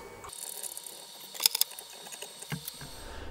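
A collet nut is tightened by hand on the spindle of a Sainsmart Genmitsu PROVerXL 4030 CNC, making small metallic ratcheting clicks and light clatter, close and fairly quiet, with a cluster of sharper ticks in the middle.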